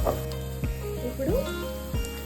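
Egg fried rice frying in a pan sizzles close and loud with a few sharp scrapes and clanks of a spatula against the metal at an uneven pace.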